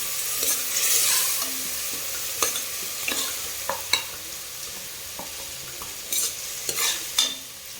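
A spoon stirs mutton biryani masala mixed with curd in a sizzling pan, with a continuous fry hiss and irregular scraping clinks close by.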